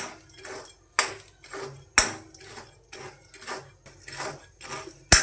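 Black chickpeas roasting in a kadai are stirred with a metal utensil, giving sharp ringing clanks about once a second, with softer scraping and rattling of the chickpeas between each strike.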